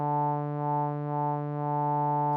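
A synthesizer filter with high resonance in Drambo rings out as a steady, bright harmonic tone that gently wobbles in level, loud and alone.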